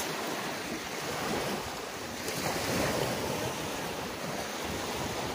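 Sea waves wash steadily onto the shore at Molo Polo Beach Resort in Lilo-an, a continuous surf roar mixed with wind buffeting the microphone, and no voices.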